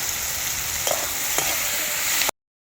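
Chopped tomato and turmeric powder sizzle in a hot pan of oil for a spicy potato and pea curry, with a steady, close frying hiss and faint stirring scrapes.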